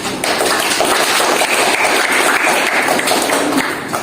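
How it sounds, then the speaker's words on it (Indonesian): Sustained audience applause in a room after a debate on international law, a dense steady wash of many hands clapping that fades slightly at the end, with no talking over it. "mari kita memberikan tepuk tangan"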